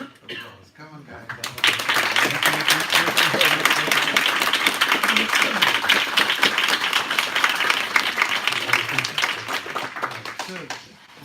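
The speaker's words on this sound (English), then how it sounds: "Why don't we give Jason a really good applause?" A live audience claps steadily together, loud and sustained after a short quiet lead-in, a dense crowd of applause that fades slightly near the end.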